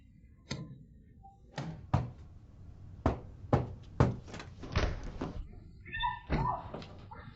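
Knocking on a house door: sharp, separate thumps in uneven bursts, fairly close and loud, with a brief voice in between.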